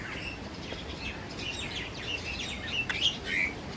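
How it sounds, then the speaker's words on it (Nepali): Small birds chirp and tweet outdoors near the Kirtipur Suspension Bridge outside Kathmandu, with scattered short calls over steady open-air ambience that grow a little louder near the end. "के खतरा है चराचुरुङ्गी आवाज"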